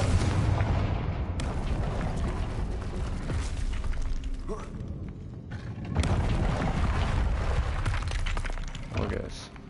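Confringo explosive spell blasts in Hogwarts Legacy, repeated booming impacts and crackling debris across a busy battle, with a voice speaking over the game sound.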